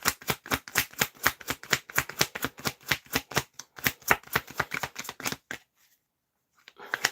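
Tarot cards shuffle in quick, rhythmic riffling bursts close by for about five seconds, then fall silent with a faint rustle at the end.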